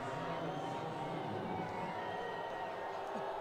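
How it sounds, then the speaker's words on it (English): A wheelchair basketball arena crowd at the Rio 2016 Paralympic Games reacts to a referee's call with a steady, distant roar of disapproval, while a commentator talks over it. "The crowd don't like it."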